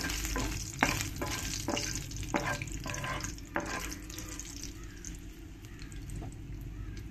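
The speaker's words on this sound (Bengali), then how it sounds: "আর এরপরে দিয়ে দেব শুকনো লঙ্কা, তেজপাতা দিয়ে ভালো করে একটু নেড়ে দেব।" Dried red chilies and bay leaves stirred in hot oil with nigella seeds for a ridge gourd posto: a loud close sizzle with several sharp scraping stirs early on, settling into a steadier, slightly quieter fry.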